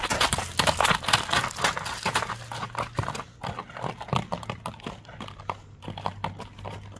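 Horse hooves clop along in a steady walking rhythm, close by, with some outdoor rustle around them.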